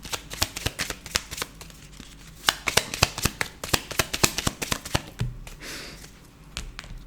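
Oracle cards are shuffled and drawn by hand in quick irregular bursts of crisp slaps and flicks, close and clear, with a softer pause and rustle before a few final taps.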